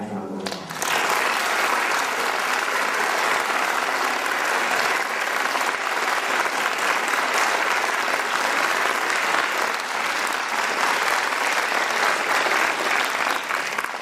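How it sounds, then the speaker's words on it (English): Graduation audience at Clark University breaks into sustained applause after names are read, a dense, loud wash of clapping that starts abruptly and continues evenly for over ten seconds. "How about a nice round of applause?"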